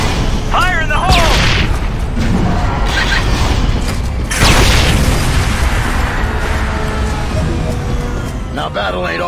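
Grenades thrown at an enemy turret in the shooter Section 8: Prejudice burst in two heavy, booming blasts amid rumbling battle noise, with voices speaking over the action.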